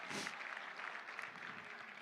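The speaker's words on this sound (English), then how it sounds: "Give them a huge round of applause for Puggy and for Help a Dog Smile." An audience at a dog adoption event gives a soft, steady round of applause for a pug, a faint wash of distant clapping that holds evenly for a couple of seconds.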